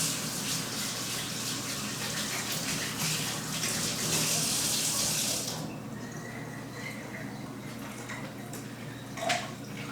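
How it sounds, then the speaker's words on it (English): Water runs steadily from a kitchen tap as fingers are rinsed under it, a close and continuous splashing stream that stops partway through and leaves a faint room hush with a small clink near the end. "I'm just going to rinse my fingers"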